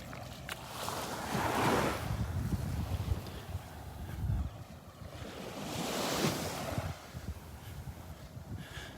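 Ocean waves break and wash ashore at Delnor-Wiggins beach on a morning walk, rising and falling in broad surges under steady wind buffeting the microphone.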